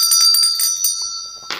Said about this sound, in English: Anytime we get a power card here on this channel, we ring our bell.